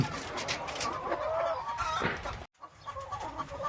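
Crowded flock of hens at a Bantayan poultry farm clucking in a thick, steady chorus, briefly cut off by a sharp dropout before the clucking resumes, slightly quieter.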